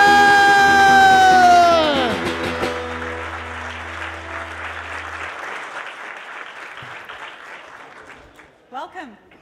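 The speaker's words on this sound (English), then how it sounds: "Give her a huge round of applause." A large conference audience at an opening session applauds loudly and steadily for a Planning Board president. The clapping rises after a sustained musical tone fades, then slowly thins out, and a brief voice comes in near the end.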